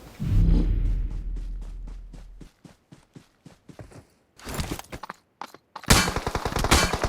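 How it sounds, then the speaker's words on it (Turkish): Gunfire in the mobile battle royale game PUBG Mobile, a rapid string of sharp shots in bursts with short pauses, close and loud, ending in a dense volley. "adam bu çok vuruyor ya"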